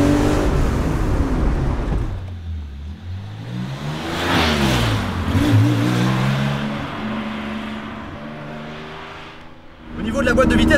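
A Porsche 911 Carrera 2.7 RS Touring engine drives through a corner, close and loud. It revs up and down in sweeping swells with a lift-off lull partway through, then surges hard again, with a voice talking over it.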